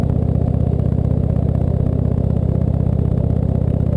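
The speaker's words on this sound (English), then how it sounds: "This has been fitted with Indian Stage 1 pipes with the 6-shooter extensions on them." An Indian Chieftain motorcycle engine with Indian Stage 1 exhaust pipes and 6-shooter extensions, a loud, close, even throbbing rumble that holds steady while riding, with no voices.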